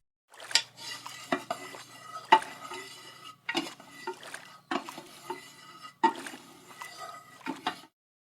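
A spoon clinks and scrapes around a pot in repeated bursts of stirring, with short pauses between rounds, close and fairly loud.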